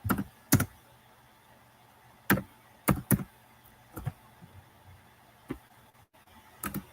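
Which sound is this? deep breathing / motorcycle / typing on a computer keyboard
typing on a computer keyboard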